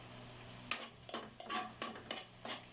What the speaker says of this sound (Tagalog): Lutuin natin yung bawang